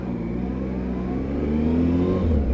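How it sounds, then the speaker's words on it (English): Triple-cylinder Triumph Tiger 955i motorcycle engine idling and creeping along at walking pace, a steady low throbbing hum that swells slightly toward the end, loud and close with no speech. "that purr from that triple cylinder Triumph engine"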